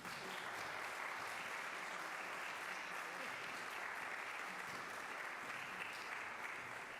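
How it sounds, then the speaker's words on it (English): An audience after a music therapy presentation at a school of music gives steady, even applause that carries on at a constant level for several seconds, a moderately distant room-filling clatter of hands. "Can we have a round of applause for all of you?"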